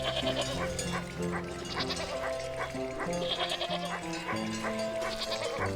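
Sheep or a ram bleat in the farm area of the video game Wytchwood, several short bleats scattered over a steady background music track, moderately quiet with no talk over them.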